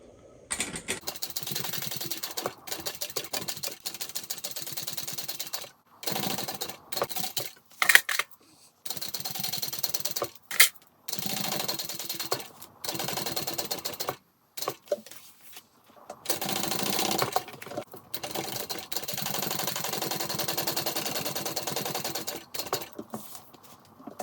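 A sewing machine top stitches a handbag, running in short bursts of close, rapid mechanical chatter separated by brief pauses.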